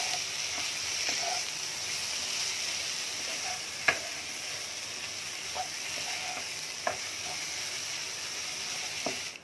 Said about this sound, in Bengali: চালটা দিয়ে একটু ভাজবো